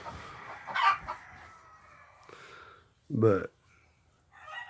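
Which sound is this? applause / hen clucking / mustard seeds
hen clucking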